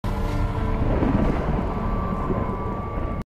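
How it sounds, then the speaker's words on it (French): Thunder from a lightning strike, a sound effect layered into a Halloween-themed ambience, rolls as one loud, dense, sustained rumble that holds steady for about three seconds before cutting off abruptly. "C'est comme s'il y avait eu un éclair dans le ciel."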